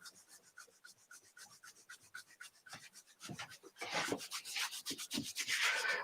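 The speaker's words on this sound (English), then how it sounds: "And rubbing your lower back and kidneys." Hands rub vigorously over the lower back and kidneys in a qi gong self-massage, giving a rapid, rhythmic brushing swish of skin and clothing that grows louder and rougher toward the end, with no talking.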